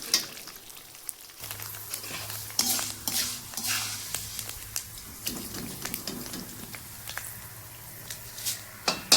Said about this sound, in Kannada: ಮೆತ್ತೆ ಇದು ಹುರ್ಕೋಬೇಕು, ಚಲೋದಂಗೆ ಕರ್ಕೋಬೇಕಿದೆ